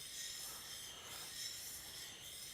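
A chisel's secondary bevel is honed with repeated strokes on a fine sharpening stone, giving a soft continuous scraping hiss, close and fairly quiet, with no voices.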